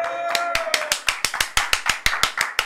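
Audience applause at a fashion outfit reaction event: brisk, even claps at roughly six per second, loud and close, continuing for several seconds.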